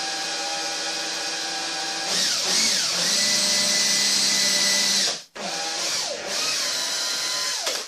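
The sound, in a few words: power drill drilling into cupboard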